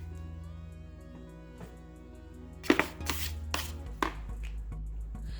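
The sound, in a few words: cutting avocados with a knife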